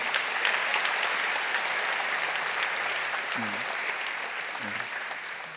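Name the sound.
congregation applauding in church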